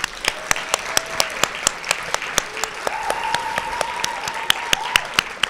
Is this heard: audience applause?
yes